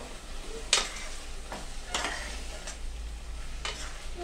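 Pepper chicken fry sizzles quietly in a pan while it is stirred, with a handful of spaced scraping strokes over the low, constant frying hiss.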